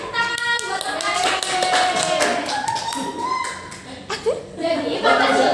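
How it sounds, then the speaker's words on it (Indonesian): Schoolchildren in an Indonesian classroom lesson clap their hands for a classmate, a burst of quick claps mixed with a teacher's voice and children's chatter. "Beri tepuk tangan buat Mas Ali"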